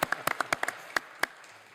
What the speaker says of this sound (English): So next, you guys can give applause.